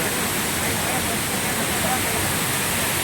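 A waterfall on a village trekking route gives off a constant, close roar of rushing water, steady and unbroken throughout.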